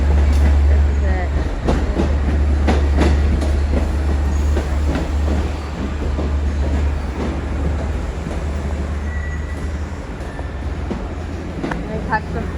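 A Long Island Rail Road train pulls into Hicksville station, loud and close, with rolling wheel clatter and rhythmic clicks over a deep engine hum, and a brief squeal, as people talk nearby.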